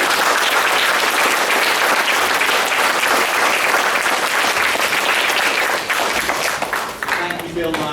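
Applause from a school assembly audience sweeps through the hall, loud and dense, then thins and tapers off toward the end.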